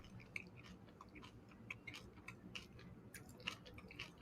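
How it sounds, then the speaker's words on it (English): A person chewing food loudly at close range, a steady run of wet, crunchy mouth clicks and squishes with no talk. "Chewing really loud."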